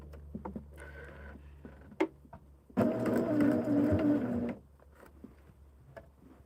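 A home sewing machine runs in a short burst while stitching a quilt seam, a close rattling mechanical whir lasting under two seconds amid quieter handling clicks and a low background hum.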